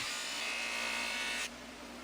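Buffing wheel polishing a steak knife blade, a steady close high whirring hum that drops abruptly in intensity near the end as the blade comes off.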